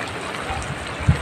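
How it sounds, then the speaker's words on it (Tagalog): Heavy rain falls steadily outdoors near a fishing spot, a dense continuous wash of water noise with a few louder splashes toward the end, no voices. "nakatigil po tayo, lakas ang ulan dito"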